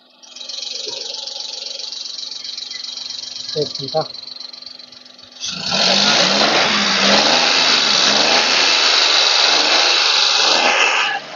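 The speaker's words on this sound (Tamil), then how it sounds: "இந்த வண்டியில் இன்ஜினோட நைஸை பாருங்க" A Maruti Suzuki Alto 800 engine idles steadily, then revs up into a louder, sustained roar that holds for several seconds before easing off.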